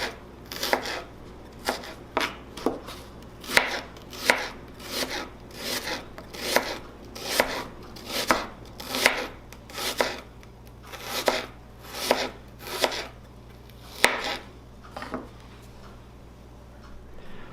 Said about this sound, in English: or slice the onions. No special way. You can be rough with them